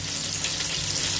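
Seasoned chicken breast fries in butter in a pan, a dense, close, even sizzle holding steady throughout the short moment with no talking.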